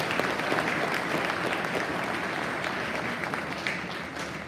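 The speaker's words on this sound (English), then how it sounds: "Let's give our 6th graders a round of applause" An audience claps for sixth grade students at a school Veterans Day event, a sustained, dense round of applause from a roomful of people, fairly loud and steady throughout.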